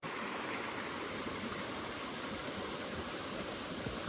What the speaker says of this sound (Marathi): नंतर आम्ही इकडे आलो विभूती वॉटरफॉल